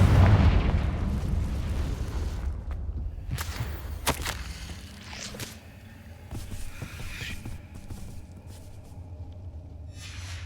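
Confringo blasting spells in Hogwarts Legacy: a deep booming explosion opens, followed by several sharp whip-like cracks and bursts that crackle and echo over a low, steady ambient rumble, with no talking.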